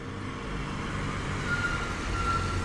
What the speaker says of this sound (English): And then I heard a truck come up behind me